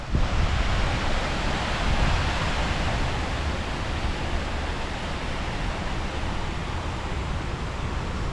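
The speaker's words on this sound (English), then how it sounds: "And there goes the waterfall." A park waterfall in Knoxville, Tennessee roars as a steady, dense rush of falling water, loud and constant without pause or voices.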